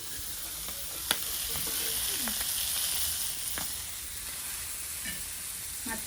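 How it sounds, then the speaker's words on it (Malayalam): Sardines frying in a pan, a continuous close hissing sizzle with a few faint clinks and stirring sounds, no speech. "ഇനി നമുക്ക് ഫിഷ് ഫ്രൈ ചെയ്യാണ്ട്"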